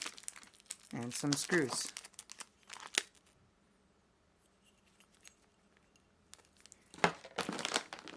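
Packaging crinkles and rustles as an EVGA RTX 3080 FTW3 graphics card box is opened, in close bursts at the start and end with a quiet stretch between, while someone briefly speaks.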